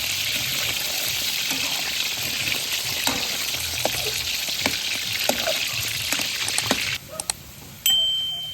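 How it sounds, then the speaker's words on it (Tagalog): Potato pieces frying in hot oil in a home kitchen, a steady dense sizzle with small pops and crackles throughout, briefly dipping near the end before surging back loud and close. "Susunod naman namin piprituhin yung patata."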